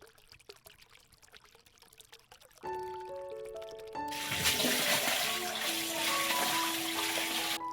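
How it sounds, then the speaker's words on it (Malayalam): Fresh water is poured onto settled arrowroot starch in a vessel: quiet clinks and handling at first, then a loud, continuous close pour with a rising resonant tone as the container fills. No talking. "ഇതിൻ്റെ വെള്ളം നമുക്ക് മാറ്റി കൊടുത്തിട്ട് വേറെ പുതിയ വെള്ളം ഇതിലേക്ക് ഒഴിച്ചു കൊടുക്കണം"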